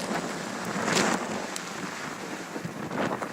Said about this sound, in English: that rain's just sort of come out of nowhere